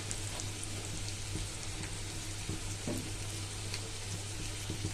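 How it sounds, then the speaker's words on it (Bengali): Onion, garlic paste, ginger paste and bay leaf sizzle in hot oil for a soybean dish, a steady close crackling fry with a few small pops and stirring clicks, fairly quiet, no voices. "গরম তেলে দিয়েছি পেঁয়াজ, রসুন বাটা, আদা বাটা, তেজপাতা"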